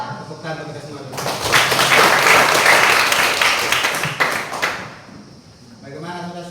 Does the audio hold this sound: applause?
yes